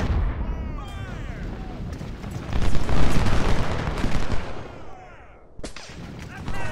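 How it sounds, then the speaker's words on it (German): Cannon artillery fire from the Civil War strategy game Ultimate General: Civil War sounds as repeated heavy booms and crackling volleys over a continuous battle rumble, swelling loudest midway, with a sharp blast near the end. "Da hinten ist der Feind. Das sind Kanonen."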